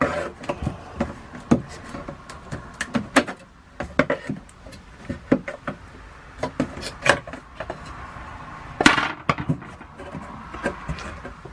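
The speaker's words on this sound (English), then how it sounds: "I'm going to put the screwdriver in here and do the same thing, just pry across" A screwdriver pries off the baseboard under a bed in a travel trailer, giving scattered sharp clicks, knocks and scrapes at close range plus one louder creaking pop near the end.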